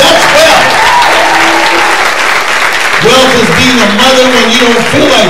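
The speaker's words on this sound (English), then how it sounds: "Clap your hands." A church congregation bursts into loud, sustained applause at close range, a dense wash of clapping that continues throughout while a voice speaks over it in the second half.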